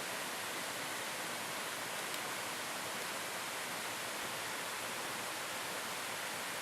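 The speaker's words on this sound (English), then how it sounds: "There's that creek." Steady rushing creek water flowing along the trail toward Apple Orchard Falls in the Appalachian mountains, a continuous broadband wash with no pauses and no voices.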